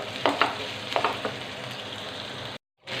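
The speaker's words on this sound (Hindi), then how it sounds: "इसे हमने अच्छा सा फ्राई करना है अंटिल कि हमारे चिकन वाइट कलर में आ जाए।" Chicken coated in spices frying in a pan for corn spaghetti, a steady close sizzle with a few scraping stirs early on, then a brief cut to silence near the end.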